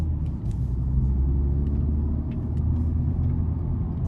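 Honda Civic Type R pulling away on a road, a steady low engine and road rumble heard from inside the cabin, smooth and even with no talk.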